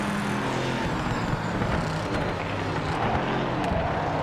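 Racing car engine in the Project Motor Racing video game, a steady loud drone with shifting harmonics running throughout, no voices present.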